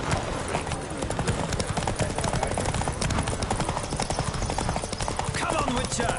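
A horse galloping in a race in The Witcher 3 video game, with fast, continuous hoofbeats over a dense bed of game sound and effects, steady and close throughout.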